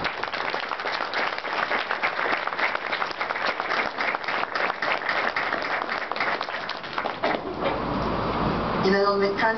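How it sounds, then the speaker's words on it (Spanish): An audience at a Mexican book launch for a dictionary of writers gives a sustained round of dense, steady applause that fades out before music and voices come in at the end. "También para ellos un aplauso."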